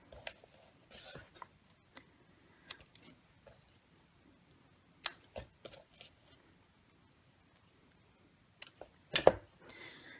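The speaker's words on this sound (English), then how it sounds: "And I'm just going to cut out 4 leaves. And I am going to cut off the stems on the end." Scissors cut out paper leaves and trim their stems, producing sparse, quiet snips and small paper rustles scattered across an otherwise hushed room.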